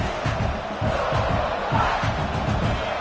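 A football stadium crowd roars and cheers in a continuous loud wash of many voices, with swells of shouting through the whole stretch.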